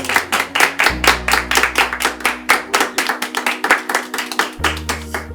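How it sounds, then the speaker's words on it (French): A small group on a film set claps for the crew, a brisk, close burst of steady handclaps with a low musical tone humming underneath. "je veux un tonnerre d'applaudissements pour Alexis Rebos, Paul Joachim Pereira et A"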